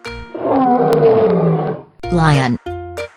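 A lion roars loudly and alone for over a second, then shorter roaring bursts follow after a brief gap, set among a children's farm-animal nursery song.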